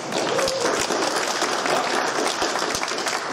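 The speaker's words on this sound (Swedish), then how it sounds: "Ge er själva en applåd." Crowd applause at Dunkers Kulturhus before a concert, a thick, loud burst of many people clapping at once, continuous and close, without speech over it.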